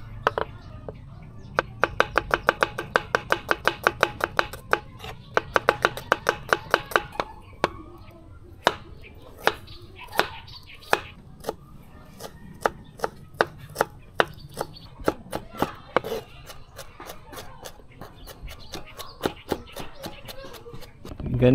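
A knife chops small pieces of ginger and onion finely on a board in quick rapid bursts, then in slower irregular strokes, sharp and close, with faint background noise between cuts.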